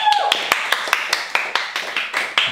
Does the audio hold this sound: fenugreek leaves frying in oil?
no